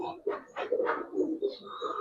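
Giribaz coloring pigeons coo in a series of soft, throaty pulses, close by, with someone talking over them.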